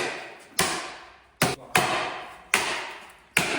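Hammer blows in a garage while people work on a 500bhp Honda CR-V build: five sharp, loud, close strikes at uneven intervals, each ringing briefly before decaying, with no talking.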